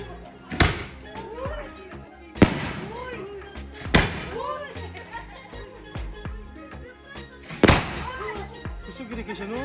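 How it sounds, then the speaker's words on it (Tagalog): Fireworks explode at an outdoor Christmas party: four loud, sharp bangs spaced a few seconds apart, each with a crackling tail, while people talk and react in the background. "so naipa-fireworks si Kuya Germ na side nila, nabiling tong New Year nila"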